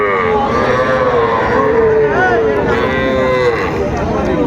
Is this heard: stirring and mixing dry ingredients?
no